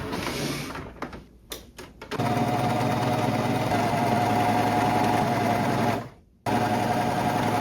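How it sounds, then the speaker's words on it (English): A serger stitches a rolled hem on thrifted fabric, its motor starting with a few short bursts, then running as a loud, steady, rapid whir, pausing briefly and resuming. "I think my neckline and the armholes are ready for me to do a rolled hem on my serger"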